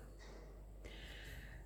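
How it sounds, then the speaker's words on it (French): A faint, breathy snore with soft snorting inhalations, heard close and quiet in a calm indoor room. "Les ronflements de Rose, c'est cadeau"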